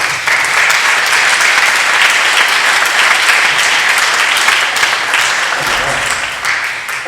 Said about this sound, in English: do a round of applause together for Adrian Leach